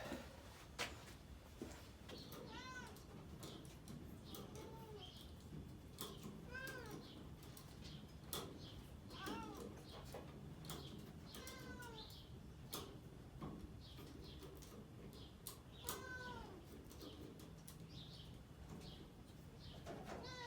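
A cat meows several times at intervals, fairly close, over steady background noise with occasional clicks and faint bird-like chirps.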